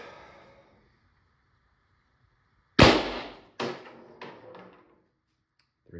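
A Pistelle X68 air pistol fires a single loud, close crack followed by a few rapidly fading echoing knocks, after a brief stretch of near silence.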